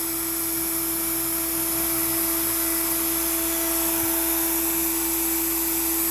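An Onefinity CNC router spindle cutting a half-inch-deep pass through pine, a steady loud high whine with a constant tone and no talk.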